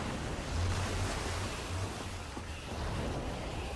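Water gushes out and floods a room in the Minecraft Story Mode video game, a steady, close rushing roar that holds level throughout with no talking.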